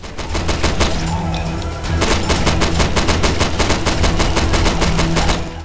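Rapid automatic gunfire in the PC horror shooter Primal Fears, dense loud bursts of shots with a short pause before firing resumes, no talking.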